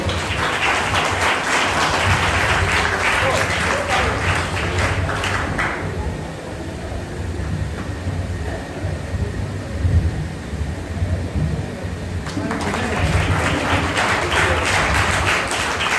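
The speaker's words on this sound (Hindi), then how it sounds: "जोरदार तालियां हमारे सर के लिए।" Loud applause from an audience at an honouring ceremony comes in two dense bursts, with a quieter lull in between before the clapping swells again.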